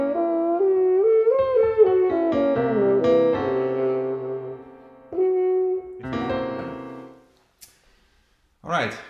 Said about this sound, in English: And then the arpeggio sounds like this.